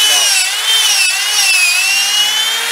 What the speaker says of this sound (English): Got that guy drilled down through nice and square.